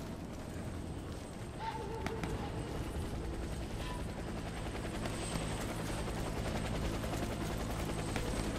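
A helicopter in the video game Warface, with a steady thudding rotor drone throughout, mixed with faint distant gunfire and battlefield noise, at moderate-low level.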